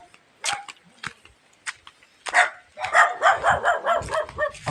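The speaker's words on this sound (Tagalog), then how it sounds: "Ang tapang ng aso." A dog in rural Bohol barks a few scattered times, then breaks into a fast, continuous run of loud, close barks.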